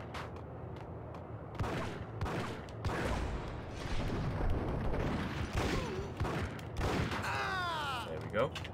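Rapid bursts of gunfire from the Max Payne video game crackle across the clip, with repeated shots and impacts mixed with game effects while someone talks over the action.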